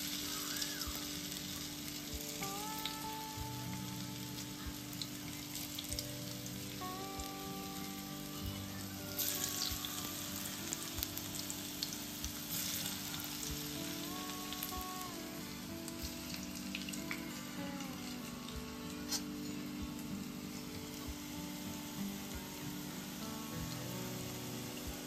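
Taro leaf rolls (alu vadi) shallow-frying in a pan, a faint continuous sizzle with light crackle, steady throughout with occasional soft clinks and a few whistling tones in the background; no talk.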